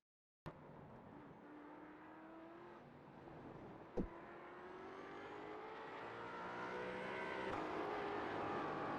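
Ford Mustang GT4 race car in the iRacing sim heard from an outside trackside view, a distant engine note rising and falling through gear changes and gradually swelling louder as it approaches, with a sharp click midway.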